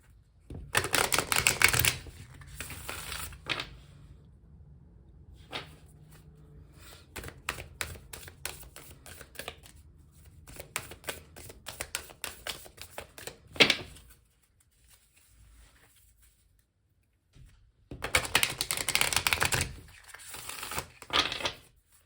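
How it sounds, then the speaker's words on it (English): Tarot cards being shuffled for a card reading, coming as bursts of crisp riffling and flicking with quieter handling between them, close up and with no talking. "I'll do one more shuffle."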